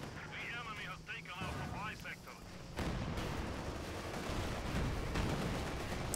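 Company of Heroes 2 fragmentation shells burst in a dense, continuous roar of blasts and debris that swells suddenly midway and keeps rumbling loudly, with someone talking over the earlier part.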